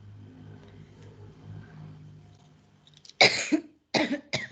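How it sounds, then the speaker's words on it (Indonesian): A man lecturing on the digestive system coughs in two sharp, loud bursts close to the microphone after a stretch of low background hum. "Mohon maaf, saya kok ya batuk-batuk ini."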